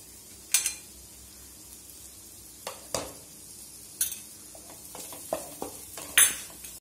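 Beetroot chicken curry frying in coconut oil, stirred with a utensil, giving scattered sharp scrapes and clinks against the pan over a soft, steady background hiss, with no talking.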